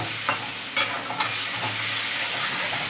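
Potatoes with turmeric and other spices are stirred and sautéed in a pan, giving a close, continuous sizzle broken by a few sharp scrapes of the spoon.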